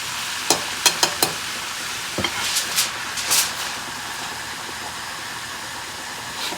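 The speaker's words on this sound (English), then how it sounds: "It's 2 left in the pan to cook" Two thin pork chops cooking in a pan, a soft steady sizzle under a handful of sharp clicks and taps from utensils against the pan early on, then a faint continuous fry.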